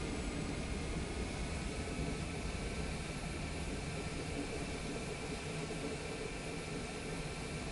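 An airliner on its takeoff roll in Microsoft Flight Simulator 2024 on PS5, a steady dense jet engine roar with broadband rushing noise, loud and unchanging throughout, with no speech.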